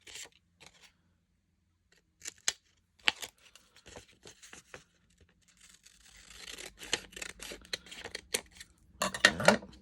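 Hand-held scissors snip through craft material while a mini shadowbox ornament is being made, giving short sparse cuts at first, then a denser run of rustling, snipping strokes toward the end, close and fairly quiet.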